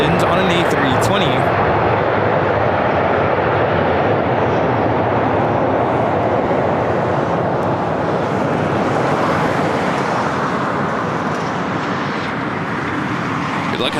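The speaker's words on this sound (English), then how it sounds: "This is Delta Airlines 2975 coming in from Portland on an A320." Delta Airlines Airbus A320 arriving at LAX from Portland, loud continuous jet rush close by that fills the span and eases slightly near the end, with a voice faintly underneath.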